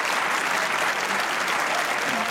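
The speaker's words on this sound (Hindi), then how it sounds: "एक बार बिस्मा के पूरे करियर के लिए तालियां होनी चाहिए।" A studio audience on a comedy talk show applauds Pakistani cricketer Bismah Maroof, a short burst of loud, steady, dense clapping with no gaps.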